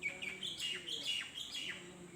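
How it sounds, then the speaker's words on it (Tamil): Koel and peacock calls ring out around a rural stone house, a few rising, clear bird calls repeating at moderate distance over quiet background, with no talk. "குயில் சத்தம் மயில் சத்தம்னு சூப்பராக இருக்குங்க"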